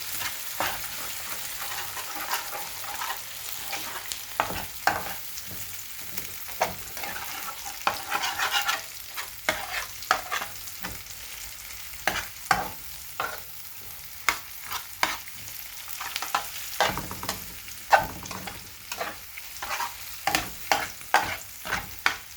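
Mushroom noodles get stirred and mixed in a pan over a low, constant sizzle, with frequent quick spatula scrapes and taps building in a loose rhythm, fairly quiet and without speech.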